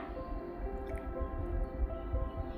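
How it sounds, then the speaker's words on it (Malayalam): Half a cup of oil is poured into jackfruit cake batter and gently stirred in with a whisk, giving soft, steady wet squishing and dripping sounds close up, continuous and fairly quiet with no voices. "1/2 കപ്പ് ഓയിൽ ഒഴിച്ച് ഒരു വിസ്ക് കൊണ്ട് പതുക്കെ ഇളക്കി യോജിപ്പിക്കാം"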